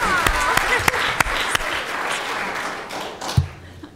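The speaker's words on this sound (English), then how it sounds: "that's worth a round of applause" Brief round of applause from a room audience at a state-level carbon pricing break-out session, sparse claps with a few sharp louder hits, moderate level, fading toward the end.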